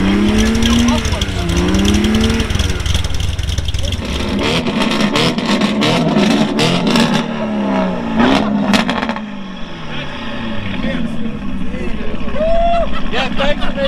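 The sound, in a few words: car engine revving without mufflers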